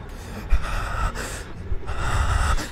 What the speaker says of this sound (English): this guy needs to stop breathing so loud